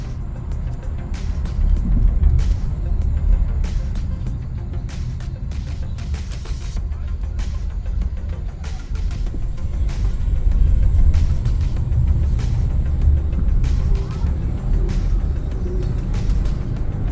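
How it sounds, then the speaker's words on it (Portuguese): A Hyundai Santa Fe with a misfiring engine idles with a steady low rumble and uneven shaking throbs, close and continuous, with no talk over it. "É típico de um carro que está falhando o motor."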